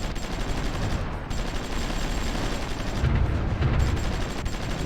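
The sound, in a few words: artillery fire in video game Supreme Ruler Ultimate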